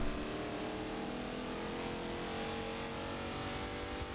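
A twin-turbo V6 race car engine drones loud and steady throughout a road-course race at VIR, holding a constant high-revving tone with no voices.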